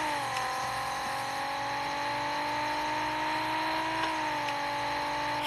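A supercharged Toyota Supra's engine in Racing Rivals holds a steady, sustained drone, close and even, with a slight pitch shift near the end and no talking over it.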